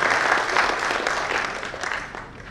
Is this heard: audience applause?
yes